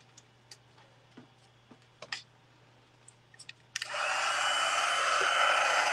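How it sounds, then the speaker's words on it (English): A craft heat tool switches on for heat setting on a handmade gift card holder, a loud steady blowing roar that starts abruptly after a few soft clicks and taps and then holds constant. "And then I'm going to grab my heat tool here, and we'll just heat set this."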